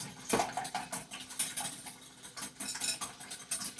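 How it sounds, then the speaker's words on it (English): Eggs and cinnamon are mixed in a bowl for French toast, a quick quiet series of clinking, scraping stirs of a utensil against the dish, with no voices. "make sure that our cinnamon doesn't get all clumpy and that we give it a good mix"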